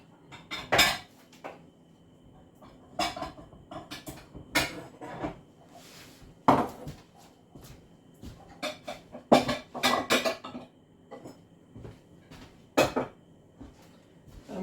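Large mixing bowl and kitchen scales being fetched in a home kitchen for baking Jammie Dodgers: scattered clattering knocks of crockery and metal, several sharp clinks spread across the stretch with quiet gaps between.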